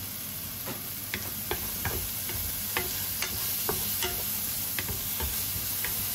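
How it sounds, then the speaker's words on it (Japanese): Thin 1–2 mm potato slices stir-fried in a frying pan still greasy from cooked meat, with a steady close sizzle and a series of light spatula clicks and scrapes against the pan. "さっき肉を焼いたフライパンをそのまんま使って残ったじゃがいもを炒めるよ。"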